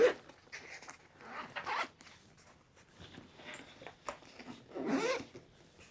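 A zipper on a travel bag is drawn open in several short, close rasping pulls separated by brief pauses, with light handling rustle between them.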